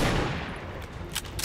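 A sniper rifle shot in the strategy game XCOM 2, a sharp burst that decays into a rumbling tail, followed by a couple of brief crackling impacts, no talk.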